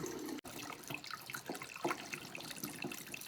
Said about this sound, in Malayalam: നമ്മൾ ഇതിൻ്റെ ആ ഫസ്റ്റ് ജ്യൂസ് ഇങ്ങോട്ട് ഊറ്റിയെടുക്കണം